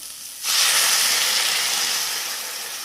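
Water hits a hot pan of vegetable curry and erupts into a loud, steady steam hiss that starts abruptly after a brief quieter sizzle and slowly fades over a few seconds, close by with no talking.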